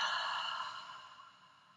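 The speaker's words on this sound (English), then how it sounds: "One more round like this, in the nose. And exhale, release." A single long nasal exhale released during a meditation breathing round, a soft airy breath that starts fairly strong and fades steadily over nearly two seconds, close and alone.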